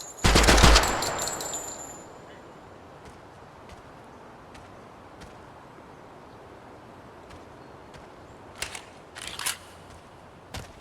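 Automatic fire from a 5.56 rifle in the video game Project Silverfish, a loud rapid burst at the start that quickly falls away into quiet ambience, with scattered faint clicks and a few brief later shots.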